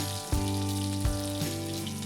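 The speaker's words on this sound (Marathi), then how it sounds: "बारा लसणाच्या पाकळ्या मी चांगल्या ठेचून घेतलेल्या आहेत त्या या गरम तेलावरती फोडणी करायची" Crushed garlic cloves and ground green chilies hiss in hot oil as a tempering for a methi vegetable dish cooked on a tava, a steady sizzle beneath a sustained humming tone.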